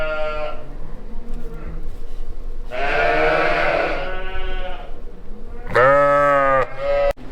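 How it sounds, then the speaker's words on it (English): A young lamb bleats loudly several times up close, long wavering cries separated by short pauses, with a last sharp, strained bleat near the end. "One noise for being happy, one noise for being sad, one noise for being hungry. Most annoying sheep."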